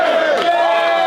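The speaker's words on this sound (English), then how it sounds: "I'll isolate just the cheer for you." A football team's group cheer shouted in unison, a short high-pitched collective yell that sounds more like excited kids than heavy players, loud and close, rising then holding briefly.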